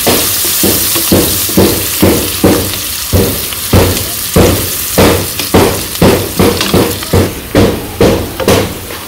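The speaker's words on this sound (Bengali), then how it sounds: "জিরা দিয়ে দিলাম পেঁয়াজ কুচি দিয়ে দিলাম পেঁয়াজগুলো ভেজে নিই" Chopped onions fry with cumin in a pan, a loud close sizzle broken by regular stirring thumps of a spatula against the pan, a rhythmic scrape-and-knock pattern roughly twice per second, no talking.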